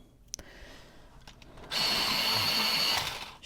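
An electric pencil sharpener grinds a Caput Mortuum colored pencil in one steady, fairly loud whirring burst of about two seconds, preceded by faint taps and handling noise.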